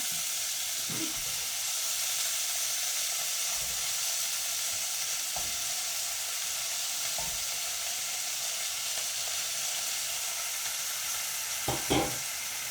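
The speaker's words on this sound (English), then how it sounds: "So I'm going to add the methi now." Methi (fenugreek) is added to a hot pan already holding salt and chutney, giving a steady, loud hissing sizzle throughout, with a few faint utensil knocks near the end.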